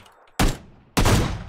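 Loud gunshots ring out in PlayerUnknown's Battlegrounds, two full blasts with long decaying tails and the start of a third. A quiet stretch of low background noise comes before them.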